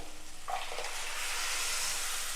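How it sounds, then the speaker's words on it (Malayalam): A ground paste pours into a hot pan of Kerala dried-prawn and green-mango curry, and a soft hiss swells into a steady, close sizzle. "ഇനി ഇതിലേക്ക് നമുക്ക് അരപ്പൊഴിച്ചു കൊടുക്കാം"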